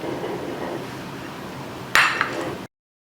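A knife strikes a cutting board twice while vegetables are chopped, two sharp close knocks in quick succession over a low, steady kitchen background.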